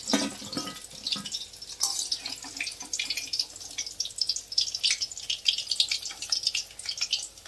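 Chicken pakora frying in hot oil, a steady bright crackling sizzle with dense spitting bubbles running throughout, close and fairly quiet, with no voices.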